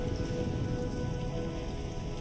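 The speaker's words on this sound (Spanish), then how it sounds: "¿Ves cómo llueve?" Steady rain pours down, a dense, even patter of drops hitting surfaces with a constant hiss throughout, fairly loud and close, with no voices.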